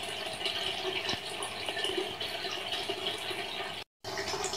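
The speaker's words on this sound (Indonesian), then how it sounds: "Saya akan mempraktekkan di outdoor ya, dengan latar belakang pancuran air kolam." An outdoor pond fountain splashes steadily a couple of metres away, a continuous bright rushing wash of falling water with no voices and one short dropout near the end.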